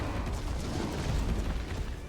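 Loud, continuous explosive rumble and bursts from a Resident Evil game, a dense booming roar that stays steady throughout with no speech over it.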